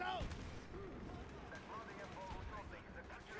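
Gunfire in the video game Call of Duty: Black Ops, a prison uprising at Vorkuta, with scattered shots and distant booms under a steady game soundscape while a player talks over it.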